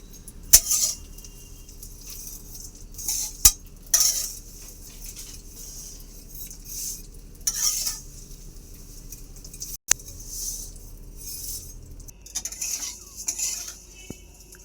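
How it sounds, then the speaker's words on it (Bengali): Vermicelli is stirred in ghee in a pan, with intermittent metallic scrapes and light clinks of a spoon against the pan. No one speaks. "এবার আমি সিমুইগুলো ঘির মধ্যে দিয়ে হালকা করে ভালো করে ভেজে নেব।"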